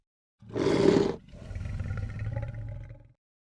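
A fearsome beast lets out a deep, throaty roar for an audiobook scene, one loud burst followed by a lower, rumbling growl that trails off, with no voices over it.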